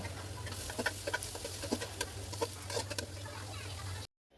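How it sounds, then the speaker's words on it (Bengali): Chopped onions, about a cup, go into oil heated in a cooking pot, giving a steady sizzle with scattered crackles and pops that stop abruptly near the end. "একটা পাতিল আমি তেল গরম করে নিয়েছি এতে এক কাপের মতো পেঁয়াজ কুচি দিব"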